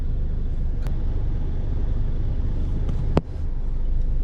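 Road traffic in a jam, a steady low engine rumble from nearby vehicles running continuously, with a short sharp knock or clunk partway through.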